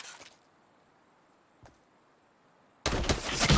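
Gunfire in a video game shootout among trees: near silence with a faint tick, then a sudden loud, dense burst of shots that continues to the end.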